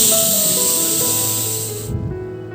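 A pressure cooker cooking pongal vents steam in a loud, sustained whistling hiss that fades and then cuts off abruptly near the end, followed by a softer lingering rumble.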